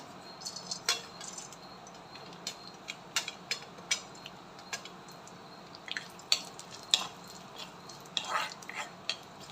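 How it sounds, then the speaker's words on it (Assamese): Quiet frying with scattered crackles and light clinks of a spoon stirring in a pan, irregular and close by. "ইয়াত অকণমান ঘিউ দি এতিয়া আমি ড্ৰাই ফ্ৰুটছখিনি ভাজি ল'ম অকণমান।"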